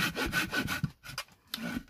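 A hand saw cuts through wood outdoors in a rapid, rhythmic series of rasping strokes, close and fairly loud, with a short pause midway before the sawing resumes.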